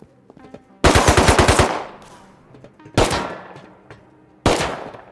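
Pistol gunfire in the survival video game Rust: three separate bursts of rapid shots, the first a long stuttering volley and two shorter ones after, loud and close with fading tails and no talk over them.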